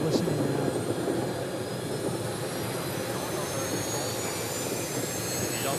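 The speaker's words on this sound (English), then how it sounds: "Yep, those engines are ignited, so obviously we've gotten through that." Jet engines on a jetpack wing run at a steady, loud roar with a constant whine above it, at a cross-Channel flight launch.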